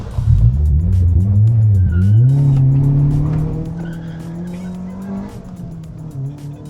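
A Honda Type R engine revs hard, its pitch sweeping upward as it climbs into VTEC. Tire squeal from a burnout joins in, loud and close.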